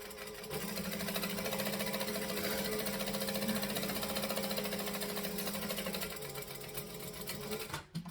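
Close by, a sewing machine stitches a seam with a 2.5 stitch length in a fast, even whirring run for about six seconds, then slows to a stop.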